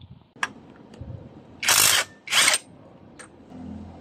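An impact tool removes the torque drive from a Mio Fino 160cc scooter in two loud, close bursts of whirring, with scattered clicks and light clanks before and after.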